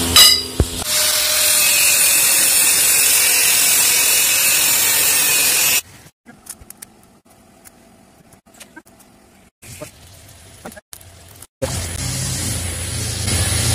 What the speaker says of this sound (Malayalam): ഓക്കെ, അപ്പൊ നമുക്കിത് വെൽഡ് ചെയ്തെടുക്കാം.